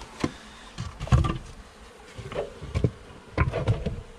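Honey bees are knocked off the edge of a hive frame, producing a buzzing swarm sound punctuated by several dull thumps and bumps, close and moderately loud, with no talking.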